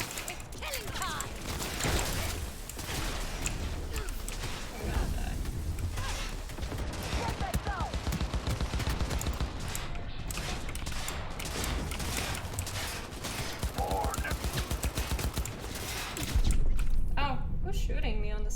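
Bursts of gunfire in the game Cyberpunk 2077, rapid clattering volleys and scattered shots running throughout amid mechanical clanks, with a player talking over the shooting.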